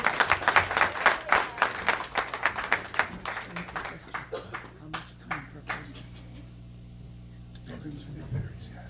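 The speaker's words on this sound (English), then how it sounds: "Can you give the panel members another round of applause?" A church symposium audience applauds its panel members in dense clapping that thins and fades out, with a voice heard under the last claps.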